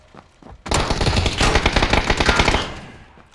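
Rapid automatic gunfire in a video game, a loud, close burst of fast repeated shots lasting about two seconds, preceded by faint clicks and fading into a short decay.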